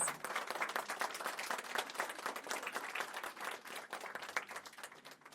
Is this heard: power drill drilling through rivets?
no